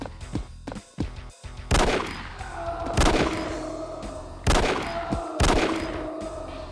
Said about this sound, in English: It appears that the zombies have now been on alert by my gunshots.